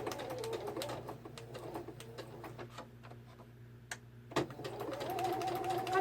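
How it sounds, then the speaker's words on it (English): A sewing machine stitches a large curved seam during a spring craft project, a steady mechanical whirr running close and moderately loud, briefly pausing before resuming with a louder, faster run near the end. "It's easier to sew this bigger curve than it is to do the little 1 inch one"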